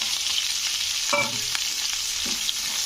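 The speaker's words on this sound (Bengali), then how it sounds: "তারপরে দিয়ে দেবো পেঁয়াজ" Onions crackle in hot oil with curry leaves and spices in a pan, a loud continuous sizzle close up, broken by a few spoon scrapes and clinks as they are stirred, no one talking.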